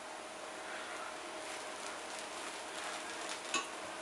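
Tuna mixed with oat bran cooking in a pan, a soft continuous sizzle and crackle heard faintly and close, with a single brief utensil tap near the end.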